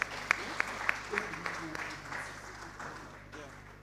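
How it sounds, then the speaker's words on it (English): An audience at a national migrant dialogue plenary session applauds. Sharp claps ring out over a steady wash of clapping that slowly fades, with some murmuring voices underneath. "Please, can we give her a very resounding round of applause?"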